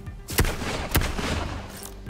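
Revolver fired in the VR game Grapple Tournament: two sharp, loud shots about half a second apart, then a fainter third report, with a low rumble in between.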